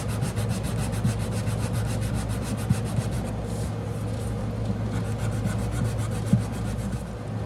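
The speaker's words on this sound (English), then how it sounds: "So I'm going to lightly sand this with some 400 grit because there's usually no finish on a bridge." Light hand sanding with 400 grit sandpaper on the bridge of a 1963 Martin D-28 acoustic guitar, a soft, steady rubbing scratch close by, with a couple of faint taps and no talking.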